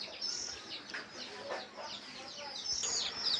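Chickens cluck and chirp faintly and busily while being fed coconut sap in the Sundarbans, a soft, scattered flock chatter at some distance with light background noise.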